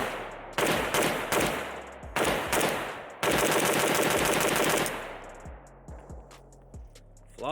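Pioneer Arms 556 sporter underfolder AK rifle firing outdoors: a few sharp single shots, then a sustained rapid burst, loud and close, with echoes trailing off afterward.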